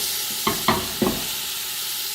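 Butter and chopped vegetables sizzle in a pot on the stove while a spoon stirs them, giving three quick scraping strokes over a constant hiss, close and fairly loud, with nobody speaking.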